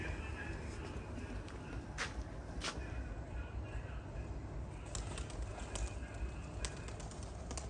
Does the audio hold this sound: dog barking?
no